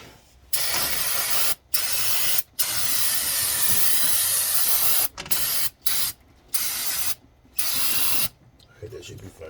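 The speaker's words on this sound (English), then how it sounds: "I'm gonna take some brake clean and try to clean off where that coolant got down in there on that hose" Brake cleaner aerosol spraying onto a coolant-wet engine hose during an OBS Ford truck water pump replacement: a series of loud, close bursts of broadband hiss, about seven sprays of varying length separated by brief silences.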